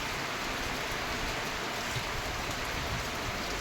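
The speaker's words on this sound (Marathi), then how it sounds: "सकाळच्या 6 वाजल्यापासून पाऊस चालू आहे." Heavy monsoon rain pours steadily near a goat shed, a dense continuous hiss of drops on surfaces with no pauses and no voices.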